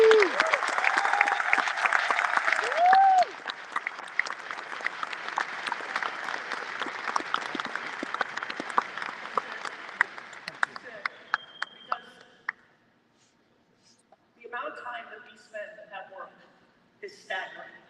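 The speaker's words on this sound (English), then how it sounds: "I want everybody to clap it up for these people to encourage them" A conference crowd at a closing keynote breaks into dense, loud applause with a few whoops, which thins out into scattered claps and fades, before a speaker's voice returns near the end.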